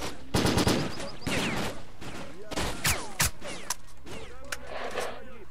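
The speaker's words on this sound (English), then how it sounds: "I'm just gonna shoot wherever" Repeated gunshots from S.T.A.L.K.E.R. Lost Alpha crack out in uneven bursts during a fight in Pripyat, sharp and close, with some echoing tails between shots.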